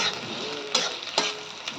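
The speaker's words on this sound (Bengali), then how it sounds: "মশলা দিয়ে এখন ভেজে নিচ্ছি" Onions and spices frying in a pan for egg bhuna, a continuous close sizzle with a few brief louder bursts of stirring, no voices.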